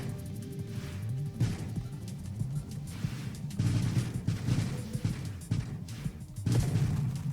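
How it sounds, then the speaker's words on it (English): A salvo weapon launching many small missiles in the space shooter Nova Drift, a dense string of short popping bursts and thuds that swells in clusters over a low rumble. "salvo just fires lots of little missiles with slight targeting"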